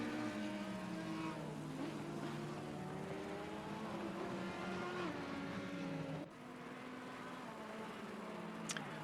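Race cars, among them a Lamborghini, at full speed down a straight in the Assetto Corsa Competizione racing game; steady, loud high-revving engine whine with pitch shifts as gears change and other cars close in.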